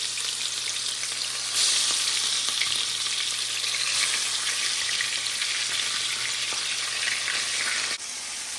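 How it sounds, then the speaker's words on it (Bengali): Fish resembling rupchanda fry in hot oil, a loud, close, continuous sizzle with crackling spatter that holds steady before dropping suddenly near the end. "তেলে ছেড়ে দিচ্ছি, তেল গরম হয়ে গেছে"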